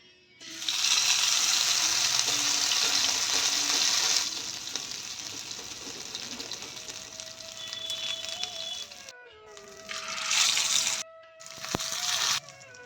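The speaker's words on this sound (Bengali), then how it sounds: "আমি এখন একে একে বড়াটা তেলের ভিতরে দিয়ে দিচ্ছি।" Prawn fritters drop one by one into hot oil in a wok, setting off a loud, hissing sizzle that eases into a steadier fry. Fresh surges of crackling hiss follow near the end.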